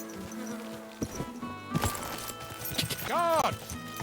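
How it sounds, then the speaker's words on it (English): Horse hooves clip-clop during riding in the medieval video game Kingdom Come: Deliverance II, scattered dull knocks set among loud game music and tonal effects, with a sweeping whistle-like sound near the end. "riding our horse!"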